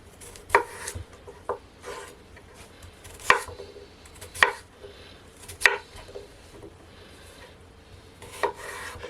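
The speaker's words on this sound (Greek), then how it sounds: "Θα τις κόψω σε πιο μικρά κομμάτια." One kilogram of peeled potatoes being chopped into smaller pieces, sharp knife strikes against a board landing irregularly about once a second, close and clear with scraping in between.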